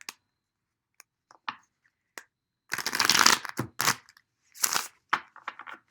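Tarot cards being shuffled in quick bursts: a few isolated flicks, then a dense riffle followed by several shorter shuffling flurries, close and clear, with no talking.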